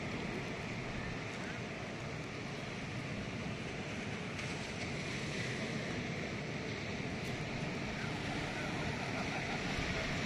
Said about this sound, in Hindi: आप लोग भी देखिए कितने लहरें तेज है।